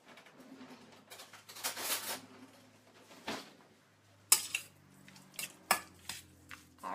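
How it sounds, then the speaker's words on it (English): A spoon mixes salt in a bowl with scattered clinks and scrapes against the sides, some sharp and close, amid quiet pauses. Faint pigeon-like cooing sounds in the background. "then we get a spoon to mix it up"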